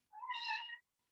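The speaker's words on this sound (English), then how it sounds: "And there's my cat" A pet cat gives a single short, clear meow, close and fairly quiet, alone in a calm room during a gentle yoga session.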